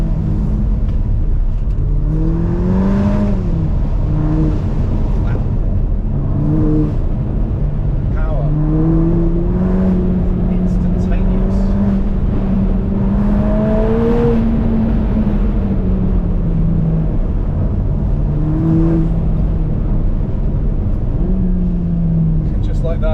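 A 2025 Ferrari Roma Spider's engine drones steadily and close while driven spiritedly on the road, its pitch rising and falling as the throttle changes, with a faint voice now and then beneath it.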